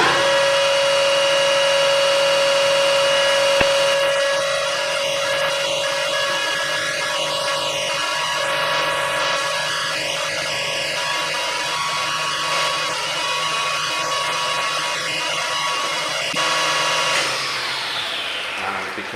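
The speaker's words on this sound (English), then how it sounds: "And now I'm going to turn on the lathe" A metal lathe runs steadily throughout with a strong constant motor whine and machining hum, loud and continuous, with no talk over it until it winds down near the end.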